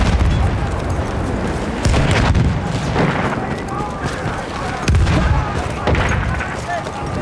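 Repeated booming blasts from grenades and battlefield explosions in Battlefield 1, several heavy thumps spaced a second or two apart amid constant combat din, with faint voices underneath.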